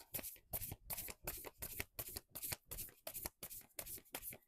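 Oracle cards being shuffled by hand in a quick, steady riffle of papery slaps and flutters, close and fairly quiet, with no talking.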